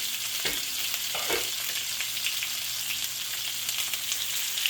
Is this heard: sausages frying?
yes